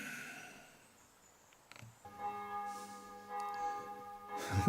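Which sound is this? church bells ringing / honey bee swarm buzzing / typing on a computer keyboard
church bells ringing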